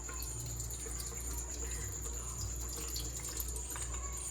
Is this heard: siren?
no